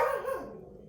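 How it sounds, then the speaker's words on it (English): Cleo the dog lets out one short bark close by, its tail fading quickly into a quiet room. "Oh, the dogs are going to bark."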